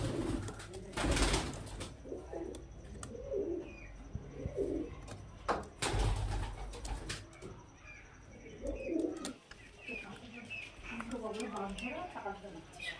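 Soft repeated cooing of pigeons, several birds including a male, with chirps and wing flutters around them; someone talks over much of it.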